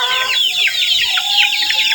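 Chickens cluck busily close by while a rooster crows through the chatter, loud and continuous.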